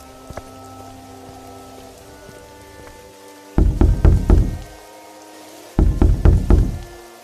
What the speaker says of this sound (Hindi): इतनी रात में काहे कुंडी बजावत है?